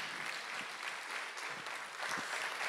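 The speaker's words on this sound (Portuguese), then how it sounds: "Uma salva de palmas para os nossos astros." Audience applause at a stage hypnosis show, steady dense clapping from a crowd that fills the whole stretch at moderate level, with no voices over it.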